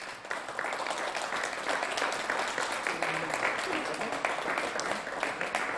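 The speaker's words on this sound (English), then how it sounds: "A round of applause, please, for Jack Ashton." Crowd applause at a motor racing series round at the Red Bull Ring, a dense, steady clapping that holds at a fairly loud level throughout, with a voice speaking over it.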